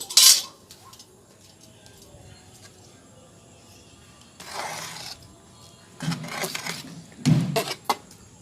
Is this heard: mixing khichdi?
yes